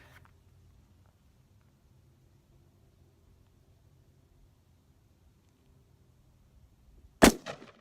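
A single loud, sharp outdoor gunshot from a 5.56 M193 round fired at homemade body armor, cracking near the end after several seconds of near silence.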